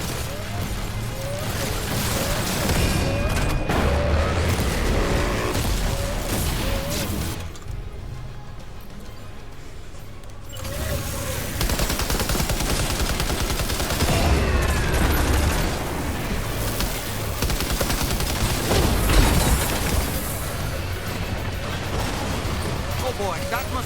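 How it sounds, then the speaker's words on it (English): Gunfire and explosive bursts in the video game Death Stranding 2, with repeated pops and booms over dense, loud game noise and music, continuing alongside talk. "Opening fire now."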